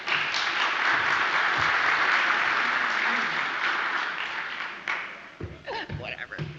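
An audience at a talk on Toyota Kata applauds to welcome the speakers, a loud burst of steady clapping that fades out after about five seconds as a voice starts speaking.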